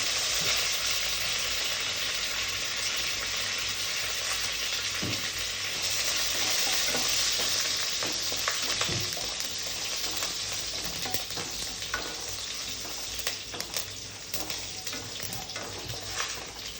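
Dried red chilies and curry leaves sizzle in hot frying oil, a dense, steady crackling hiss that runs throughout with faint stirring sounds and no talk.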